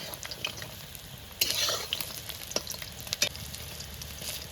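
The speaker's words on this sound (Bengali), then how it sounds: "পকোড়াগুলো তেলের মধ্যে ছেড়ে দিয়েছি, এবার ভাজা হতে থাকবে পকোড়াগুলো" Soybean pakoras deep-frying in hot oil, a steady soft sizzle with a louder burst of crackling partway through and occasional clinks of a utensil, no talking.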